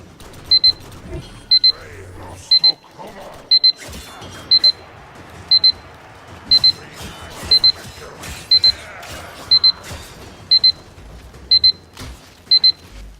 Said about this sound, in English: You heard the alarm go off.